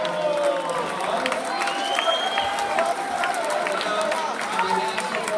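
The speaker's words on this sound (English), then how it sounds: "let's give them a round of applause" School assembly audience on the last day of school clapping together in sustained, dense applause that fills the room, with scattered cheers mixed in.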